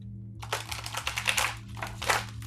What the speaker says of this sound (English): Let me give these a couple shuffles.